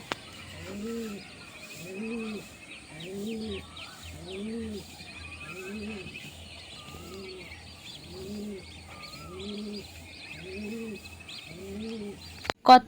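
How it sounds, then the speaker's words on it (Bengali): A pigeon coos in a steady, repeated rhythm of soft rounded calls on a village morning, with small birds chirping and twittering faintly behind it and a sharp knock at the very end. "কি সুন্দর পায়রা ডাকছে কিছু কিছু পাখির ডাকও"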